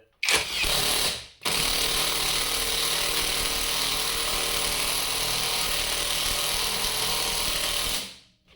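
A Hilti 450 Nm impact wrench hammers a screw into an oak stump, a loud, continuous rattling drive running for several seconds after a short opening burst and pause, then stopping.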